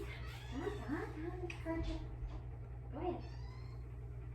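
A cat meows several times near a door, short rising calls mixed with a person talking over a steady low hum.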